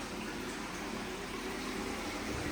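Water pours steadily over a shower filter in a koi pond filtration system fed by double skimmers and a micro bead filter, a dense, continuous close rushing and splashing that fills the whole space.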